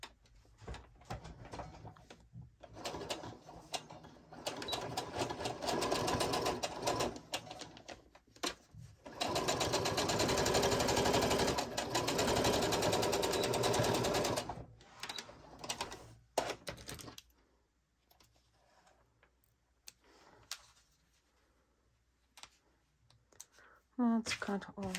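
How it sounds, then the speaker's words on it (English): A sewing machine stitches a straight seam on a double-sided waterproof baby bib made from shower-curtain material, running in loud rapid bursts with short pauses between them. "And we will just sew a straight line."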